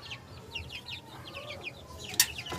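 Chickens cluck amid a flock of hens and small chicks while a rooster squares up to fight the chicks, with repeated short chirps and clucks close by and a sharp flutter of wings near the end.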